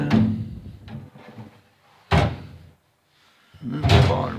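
An older Craftsman toolbox drawer slides open and shut, giving three distinct thuds and rumbles with quiet gaps between, close to the microphone.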